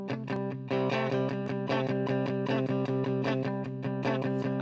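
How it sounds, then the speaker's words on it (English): An electric guitar plays a rock and roll tune with a distorted tone, strumming steady rhythmic chords that ring out loud and alone for several bars. "So I've got my electric guitar here today."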